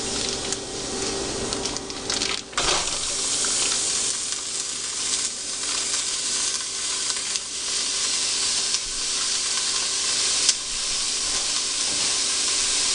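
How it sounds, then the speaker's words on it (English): One pound of hamburger meat sizzles and fries in a Dutch oven, a loud continuous crackling hiss with occasional stirring sounds and no voices. "I've got some hamburger, 1 pound,"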